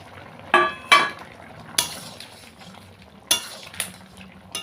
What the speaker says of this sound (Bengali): এবার আমি মাছ দিয়ে দেব।